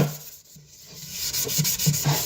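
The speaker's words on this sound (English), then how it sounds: "just scrub it out just like this" A burnt pan is scrubbed with dish soap and a sponge: close, rough rubbing strokes in a quick back-and-forth rhythm, fairly loud and alone for two seconds.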